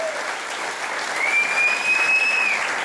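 Applause from a concert audience at a bluegrass show, a full, close wash of clapping that swells slightly and sustains throughout, with a faint whistle-like tone gliding across the middle.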